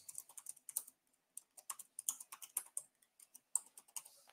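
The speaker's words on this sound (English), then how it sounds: "So I'm just going to enter my password." Fingers tap quietly on a computer keyboard up close, with quick irregular keystrokes and short pauses in between, as if entering a password.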